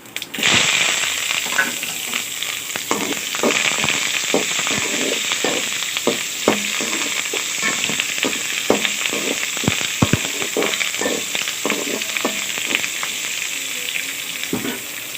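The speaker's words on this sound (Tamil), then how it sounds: "நல்லா வதங்கணும் வெங்காயம் நல்லா வதங்கிடுச்சு" Onions and curry leaves sautéing in a pan for a yam curry, a constant close sizzle broken by frequent crackling pops and stirring scrapes throughout.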